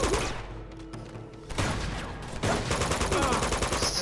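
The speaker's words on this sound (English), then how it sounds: "Stop shooting at me." Gunfire in the video game Uncharted crackles in rapid bursts throughout, close and loud, with heavier shots landing midway and near the end.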